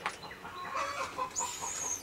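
Laying chickens clucking and squawking in short, uneven bursts, faint and somewhat distant, with no talking.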